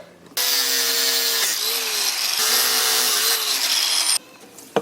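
A loud, close power tool grinds steadily through stainless steel for about four seconds, a harsh whining roar with slight pitch shifts, then stops.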